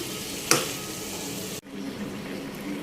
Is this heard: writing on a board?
no